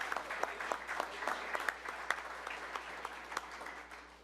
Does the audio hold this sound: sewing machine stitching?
no